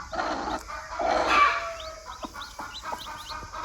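A naked neck hen with six newly hatched chicks makes soft clucks, joined by a run of quick, high peeping from the chicks, close by, with no talking.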